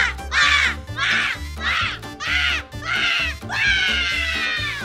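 A person imitates a crow's caw with their voice, six harsh drawn-out 'aaa' calls in a row, loud and close, each separated by a short pause, the last one longest.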